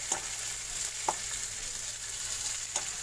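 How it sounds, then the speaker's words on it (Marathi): Tomatoes fry and are stirred in a pan for a chicken dish, giving a steady close sizzle with a few sharp clicks of the spoon against the pan. "आणि टोमॅटो ऍड करून घ्यायचे आहेत and then mix it"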